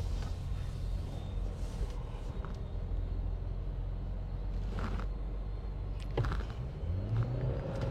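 A Mercedes G 500 accelerates with a low, continuous engine rumble and road noise heard from inside the cabin. The sound stays fairly even throughout, with a slight rise late in the run.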